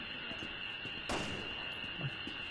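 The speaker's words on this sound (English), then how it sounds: "Why are they shooting in the head? He shoots into me." Gunfire in the video game Resident Evil 6, one sharp burst standing out against a steady hum of game background noise and a few fainter scattered pops.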